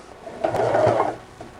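A sewing machine fitted with a walking foot stitches thick, plush Ultra Cuddle fabric in one short burst of whirring, heard up close and alone.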